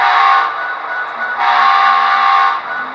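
A model Athearn Genesis SD70ACe locomotive horn blows in two long, loud sustained blasts over a steady prime mover rumble.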